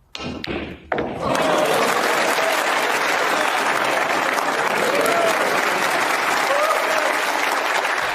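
Snooker crowd at the 2023 English Open bursting into loud, sustained applause for a shot by Ronnie O'Sullivan against Si Jiahui, following a couple of brief thuds, with faint voices mixed into the clapping.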